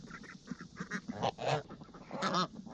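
Farm geese honk and cackle in a quick, irregular chatter of overlapping calls, several birds close by, some ducklike quacks mixed in, moderately quiet with no talking.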